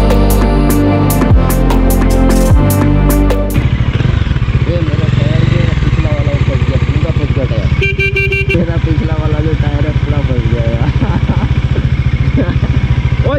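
A motorcycle stuck on a rough, broken road near Bhuban Pahar, Silchar, runs loud and close with a continuous revving drone, a few short horn-like toots and indistinct voices in the background.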